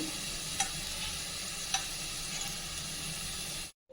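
A spoon stirs rice with vegetables through a sizzling pan with a steady frying hiss, a couple of light scrapes standing out, then the sound cuts off abruptly.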